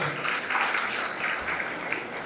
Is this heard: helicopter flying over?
no